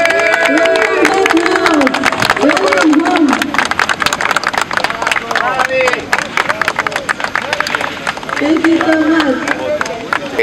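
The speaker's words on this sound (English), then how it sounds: "A round of applause, please." Applause from an audience at a Tanzanian airport ceremony welcoming the first NEOS flight from Italy, a steady dense patter of many hands clapping throughout, with crowd babble and voices mixed in underneath.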